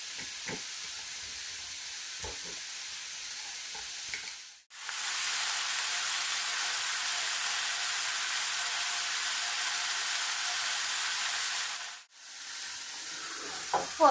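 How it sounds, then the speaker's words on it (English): Chunks of beef for a slow-cooker bourguignon browning in a hot pan, giving a loud, steady frying sizzle that runs nearly unbroken, with brief stirring noises and short gaps where the pan is moved. "So that's half the beef gone in. That's sizzling away nicely."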